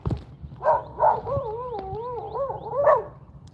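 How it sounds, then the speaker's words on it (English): Small dogs barking outdoors at a passerby, a few sharp yips in quick bursts alongside a longer wavering whine, fairly close and moderately loud. "Now we got these little guys barking at us now."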